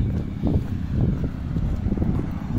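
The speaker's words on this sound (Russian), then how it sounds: "Начинает сильный ветер дуть" Strong gusty wind buffets the microphone outdoors on a Vancouver walk, a continuous low rumbling roar with uneven surges and no voices.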